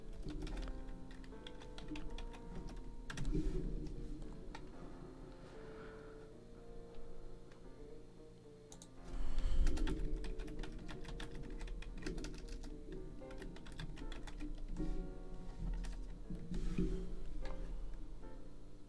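Someone types on a computer keyboard, producing quiet, rapid clicking keystrokes in irregular bursts, with a few louder clusters and short pauses between runs.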